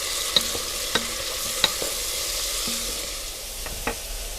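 Meatballs sautéing with tomato paste in a pot, giving a steady close hiss punctuated by several sharp spoon taps against the pan; nobody speaks.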